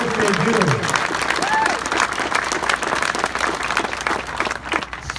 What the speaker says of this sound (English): I want to give them a round of applause for the work they do.